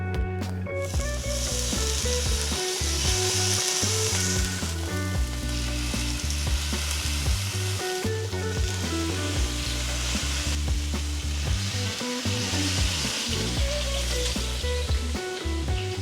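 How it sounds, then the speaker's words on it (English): Fish seared in a very hot pan, a loud, continuous close-up sizzle and crackle holding steady throughout, with no voices over it. "The pan is nice and hot, so we're gonna go down with the fish."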